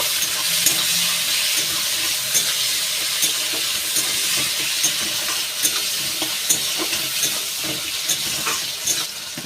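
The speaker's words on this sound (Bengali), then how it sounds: "এইবার ভালো করে একটু ভেজে নেব" Tomatoes sizzling and frying in a pan with salt for an egg and potato chorchori, a steady loud hiss broken by regular scraping stirs, close and without talk.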